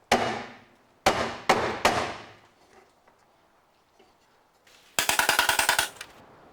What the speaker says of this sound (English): I'm going to have to hammer this the rest of the way in place